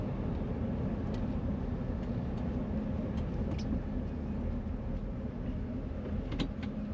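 A 1966 AMC Marlin, an unrestored barn-find survivor, drives on the road with a steady low rumble and road noise throughout, with a few faint clicks and rattles.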